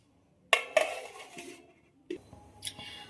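A kadai wok is set down on the stove in a quiet kitchen. Two sharp metallic clanks come close together, then a softer clunk and a light clink follow.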